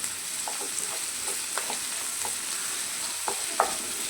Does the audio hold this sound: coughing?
no